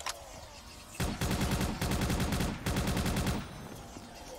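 Rapid bursts of automatic gunfire from a weapon in Call of Duty Black Ops 3 custom zombies, three loud sustained volleys separated by short pauses.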